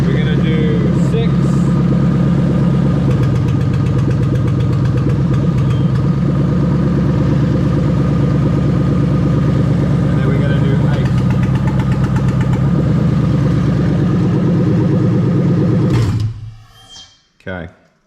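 An LS V8 swapped into a Toyota IS200 with a J160 six-speed manual idles steadily and loudly up close for most of the stretch, then shuts off, with a few brief knocks afterward.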